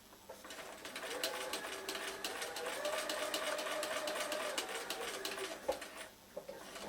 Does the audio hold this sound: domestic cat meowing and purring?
no